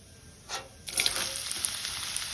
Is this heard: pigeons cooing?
no